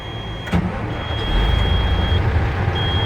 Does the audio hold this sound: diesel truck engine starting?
yes